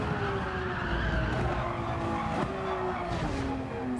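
Race car tires skidding and squealing on the track at Mount Panorama in Gran Turismo 7, a continuous loud screech with wavering pitch over steady engine roar, no talking.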